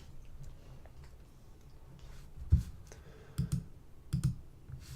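Mouse clicks on a computer, a few quiet, close clicks, some coming in quick pairs, against a faint background hum.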